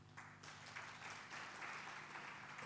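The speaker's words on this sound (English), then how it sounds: "Let's give him a round of applause." Faint, steady applause from a group at a research and innovation event, heard as a soft continuous patter of clapping over a low background hum.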